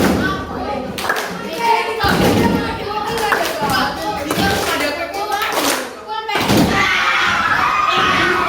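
Schoolchildren in a classroom play a clapping game, slapping tables and clapping in repeated sharp, rhythmic bursts, with lively chanting voices all around.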